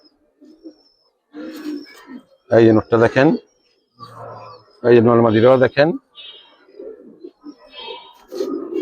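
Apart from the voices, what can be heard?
pigeons cooing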